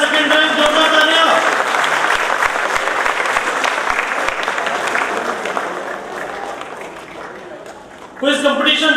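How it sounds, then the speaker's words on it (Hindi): Crowd at an Ambedkar Jayanti prize ceremony clapping for a second-place silver medal winner, sustained applause that gradually thins before a voice returns at the close. "सेकंड रैंक, जोरदार तालियां"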